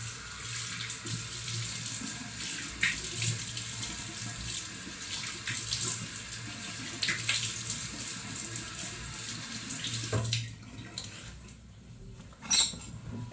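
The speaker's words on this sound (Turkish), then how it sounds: "Şimdi birazcık yüzümüzü yıkayalım" Tap water runs steadily into a sink while someone washes their face, a continuous close splashing and trickling, then the flow stops and a few drips and faint handling sounds follow.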